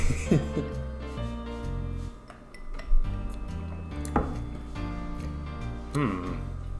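A rum cocktail stirred in a mixing glass, with faint clinks of ice against glass and a bar spoon running underneath steady music and some talk.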